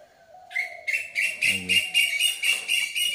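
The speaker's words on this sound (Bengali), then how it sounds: "পাখি ডাকছে। কি পাখি এটা?" A bird sings a repeated series of bright, whistled calls close by, rhythmic and clear against a quiet background.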